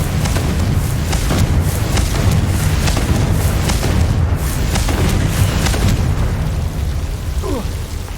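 Repeated Confringo fire-spell blasts in the video game Hogwarts Legacy, a dense run of loud booming bursts over a constant rumbling game soundscape, with one brief whooshing sweep near the end.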